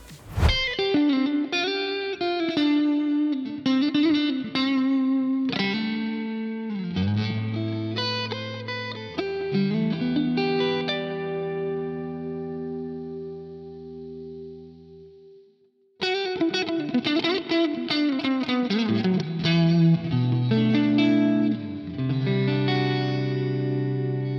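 Heavily distorted electric guitar, a premium Japanese-made instrument through a breaking-up amp, plays loud chords and riffs with sustained ringing notes, a brief pause, then continues playing.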